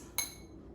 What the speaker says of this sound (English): So we'll just give them a little mix